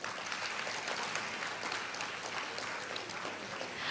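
Sustained applause from a large audience at a Girl Scout investiture ceremony, a dense, steady clatter of clapping filling the hall without a break.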